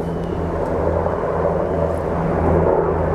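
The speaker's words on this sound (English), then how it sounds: "We got three military choppers coming over Williams Creek." Three military helicopters fly overhead on a Sunday morning over a creek, their rotors giving a steady, rhythmic low thumping beneath a broad outdoor rumble that slowly swells.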